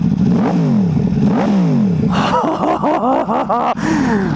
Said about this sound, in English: It is the most intoxicating exhaust, I swear to God.